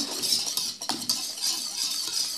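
Chocolate cake batter with oil and condensed milk is beaten by hand in a bowl, giving a steady, close scraping and clinking of a utensil against the bowl with no voices.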